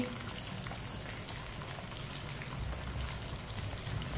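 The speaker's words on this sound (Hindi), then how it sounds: "सेवइयों को 1 मिनट के लिए पका लेंगे।" Vermicelli frying in a pan for sweet meethi seviyan: a steady, dense sizzle and crackle like light rain that holds evenly for several seconds, with no talking.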